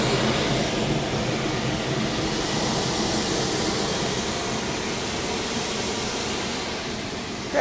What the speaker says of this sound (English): You can hear now how loud the APU is as you're standing below it.